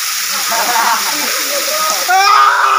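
The Ghagra waterfall roars as a loud, constant rush of falling water close by, filling the whole clip, with people's voices faintly audible beneath it.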